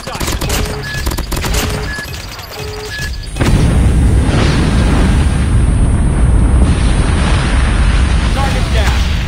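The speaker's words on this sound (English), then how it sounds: "Warning, friendly nuke has been launched." A huge nuke explosion from a video game killstreak, a sudden loud rumbling blast that swells and then sustains as a dense roar for several seconds, following earlier game announcer voice and effects.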